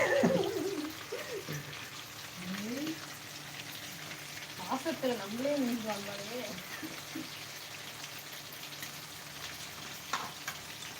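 Anchovies frying live in a pan give a steady, soft sizzle throughout, with occasional stirring, while people talk over it at a low overall level.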